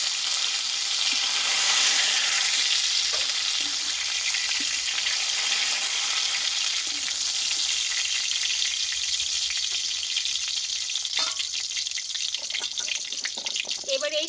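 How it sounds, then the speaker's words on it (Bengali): Pointed gourd (potol) frying in a pan gives a continuous, close hiss of sizzling oil that stays steady throughout, with a few scrapes near the end. "দেখো বন্ধুরা একদম পটলটা কিন্তু কষানো হয়ে গেছে"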